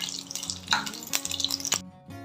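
Mustard seeds, urad dal and dried red chillies tempering in hot oil: crackling pops and sputters with a stir or two over a low hum, stopping abruptly near the end.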